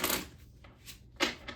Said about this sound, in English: Do a little shuffle.